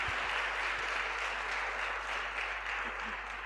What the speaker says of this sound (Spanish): Y finalmente un último aplauso por su presentación